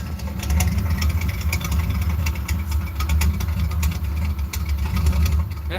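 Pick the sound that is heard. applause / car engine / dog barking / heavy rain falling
car engine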